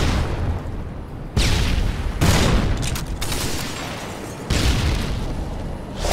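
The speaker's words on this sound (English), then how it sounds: "Tossing a flashbang." Flashbang grenades and gunfire erupt in Call of Duty Modern Warfare 2 Domination, loud broadband blasts hitting at several points over a constant roar of battle noise.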